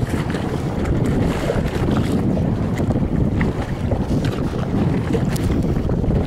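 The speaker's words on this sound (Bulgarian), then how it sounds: "Ето, вълни една с друга." Choppy waves slap and wash continuously around an inflatable kayak out on open water, with steady wind buffeting the microphone throughout and no one talking.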